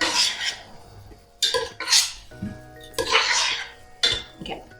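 Seasoned chilli mince of beef and beans, with salt and pepper, is stirred in a pan, giving several short scraping and clinking bursts of a utensil against metal, close by, with pauses between them.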